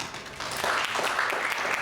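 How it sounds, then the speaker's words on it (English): Indoor audience applause at a speech evaluation contest: a short burst of many hands clapping that builds quickly and stays dense and steady. "Let us give him a round of applause."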